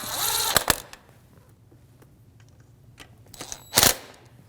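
A ratchet with a 12 mm socket snugs spark plugs on a Toyota 4Runner 4.0L, giving two short bursts of close, sharp ratcheting clicks with near silence between them.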